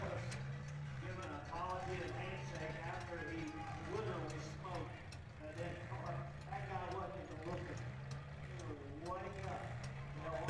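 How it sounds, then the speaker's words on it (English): Demolition derby car engine dieseling at a derby in Dunbar, Pennsylvania, a rough, rhythmic mechanical chugging that repeats in regular pulses, with distant voices and arena noise underneath. "Is that somebody's car dieseling?"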